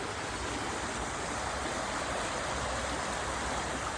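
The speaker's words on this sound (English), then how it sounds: "There's the creek." Steady, rushing flow of a fast-running creek, a dense broadband wash of water that stays even and continuous, with no voices over it.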